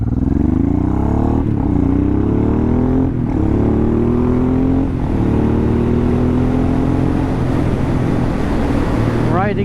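A Honda Transalp supermoto motorcycle rides along narrow country roads, its engine loud and close as it revs up through gears in repeated rising pulls with brief dips between shifts, wind rushing over the whole ride.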